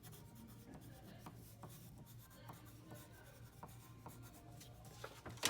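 A name being written on dark blue tissue paper for a classroom craft, a faint scratchy rubbing of the writing tool with short strokes and pauses, close and quiet, with no one speaking.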